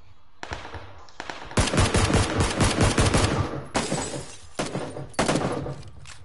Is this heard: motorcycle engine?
no